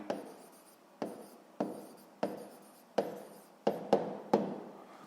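Pen strokes scratch across paper while a sixth-grade maths exercise answer is written down, in about eight close, fairly quiet bursts, each starting sharply and tailing off, with short pauses between them and no talk.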